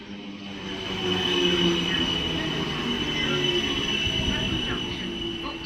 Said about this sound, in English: the rails are singing as well. And the third rail is chirping